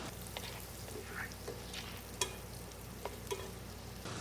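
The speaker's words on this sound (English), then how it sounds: "I've placed my skillet back on the burner, and I'm going to add my 2 tablespoons of butter. And I'm going to allow those to melt." Butter melting in a skillet on a stove burner gives a steady, low sizzle with scattered soft crackles and a few sharper pops, close by and with no voices.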